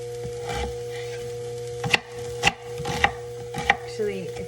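Knife chops on a wooden cutting board while vegetables are cut evenly for a Costa Rican gallo pinto dish, four or five sharp separate knocks spaced about a second apart over a steady kitchen hum.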